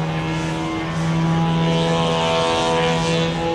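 Christian Eagle 50% scale model biplane at an air show, its propeller engine droning loud and steady with a rising, swelling whine through a snap roll, no voices over it.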